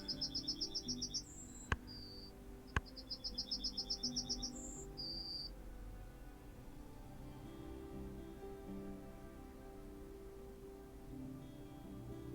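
Yellowhammer calls in the Wingspan board game: two bursts of rapid, bright chirping trills ending in higher drawn-out notes, with two sharp clicks between them, over a low background hum that carries on alone afterward.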